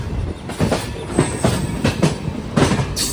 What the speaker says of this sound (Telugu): ఈ ట్రైన్ అయితే మనకు రేణిగుంట గూడూరు సబ్మెరీ ట్రైన్ ఇది